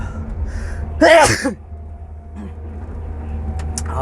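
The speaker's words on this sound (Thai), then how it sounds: "อาจจะมีเสียง จามั่ง" A single loud sneeze bursts out inside the cab of an excavator during a live, unedited recording, over a steady low engine drone, followed by quieter cab noise and faint clicks.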